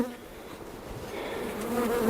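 Honey bees hum around an open Demaree-manipulated hive on a sunny day, a steady, dense buzz close to the ear that swells slightly louder toward the end.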